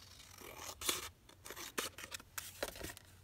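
Scissors snip through fabric while a folio or lapbook is trimmed for a junk journal craft project, giving a run of short, crisp cuts with an uneven rhythm at close range and no talking.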